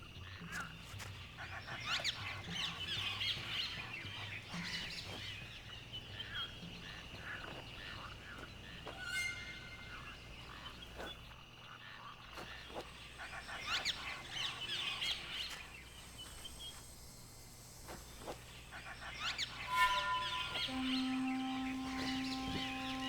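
Small birds chirp and tweet in a game world's ambient soundscape in Myst IV: Revelation, faint scattered calls over a low droning background, with a few brief tonal sounds near the end.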